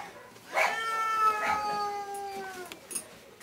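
A cat gives one drawn-out, wavering meow close by that lasts over a second, followed by faint rustling.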